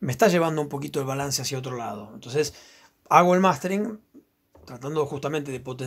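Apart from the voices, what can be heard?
No distinct noise like a dog, phone or traffic.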